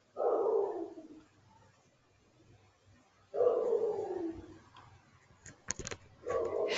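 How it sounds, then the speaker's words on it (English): A dog barks in the background during an online IoT workshop, giving a few loud, distinct bursts of barking separated by quiet gaps, along with some clattering noise near the end. "Sorry, some dog barking there."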